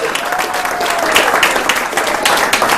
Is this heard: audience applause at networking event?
yes